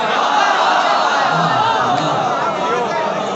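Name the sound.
audience clapping and cheering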